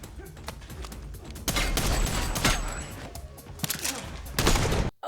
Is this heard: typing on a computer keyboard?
no